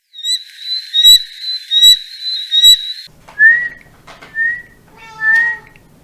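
Bush squeaker frog calling: repeated high, squeaky calls in short series, fairly loud and close, then a break where a different chirping, whistle-like call takes over.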